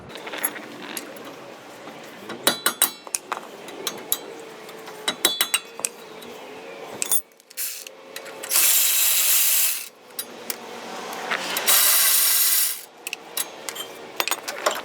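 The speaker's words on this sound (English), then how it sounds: "removing these pads, removing the caliper mount. There's two bolts, one here and one here." Brake caliper mount bolts being removed on a 2006 Nissan Frontier, with quick bursts of ratchet clicking, metallic tool clinks and two louder hissing bursts, no talking.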